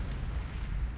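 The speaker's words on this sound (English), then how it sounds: "Not the sonar ping, but the impact of this Mark 37" A Mark 37 torpedo hits a ship in the submarine game Cold Waters, heard as a deep, muffled underwater rumble that stays low and steady through the whole second.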